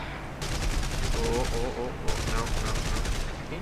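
Rapid bursts of aircraft cannon fire from a Kitty Hawk-era air combat video game, chattering in two long sustained volleys separated by a brief pause, loud and continuous, with players talking over it.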